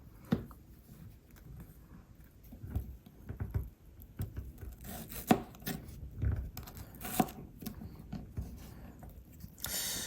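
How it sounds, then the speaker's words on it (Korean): Quiet, irregular cuts of a GSI Outdoor backpacking knife through onion, soft crunchy slices against a board at an uneven pace. "양파 정도로 아주 부드러운 식품들은 얘로도 충분히 자를 수가 있습니다."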